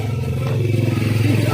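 An ojek motorcycle taxi pulls away, its small engine putting out a steady, close, loud drone with slight rattling and clatter. The engine sound continues evenly from start to finish, with no voices over it.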